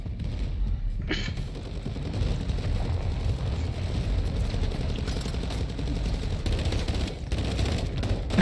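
Fireworks in Call of Duty: Warzone during the Shadow Siege event, a continuous rumbling crackle of distant pops and bursts rolling on for several seconds, moderately loud with scattered sharper cracks toward the end.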